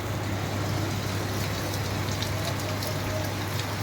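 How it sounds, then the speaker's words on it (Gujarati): Heavy monsoon rain pours down steadily in Sami taluka, Patan district, a dense, unbroken hiss of drops hitting surfaces throughout, with no talking. "વરસાદ સારામાં સારો ચાલુ છે"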